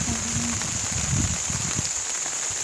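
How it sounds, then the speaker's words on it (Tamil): Steady rain falls outdoors in a continuous dense patter on surfaces, with a high constant hiss and scattered drops, no voices. "இங்கே பாருங்கள், மழை பெஞ்சிட்டே இருக்குது,"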